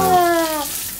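Water runs from a tap in a short, steady rush, with a falling tonal whine fading during the first half as the flow continues alone; a toy is being rinsed near a foam-filled pool.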